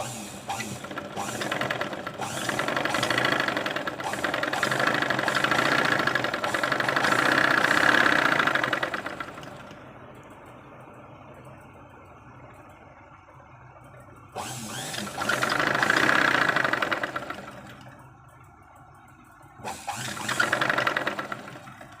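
Sewing machine stitching thread piping lace onto a blouse, in three bursts of fast whirring rattle separated by quieter pauses, with soft handling noises between runs.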